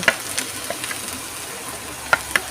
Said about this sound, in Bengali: এবার আমি ভালো করে ভাজতে থাকব